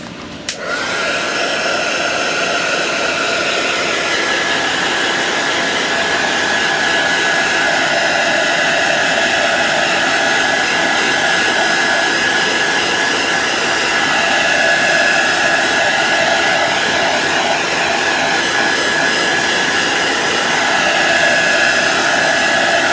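A hair dryer blows steadily on a glittery Valentine craft project, a loud continuous whooshing roar with a faint high whine, starting abruptly and running unbroken for the whole stretch.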